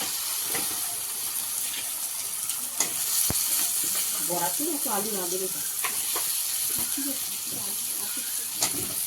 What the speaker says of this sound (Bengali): মশলা দিয়ে এবারে কষানো হচ্ছে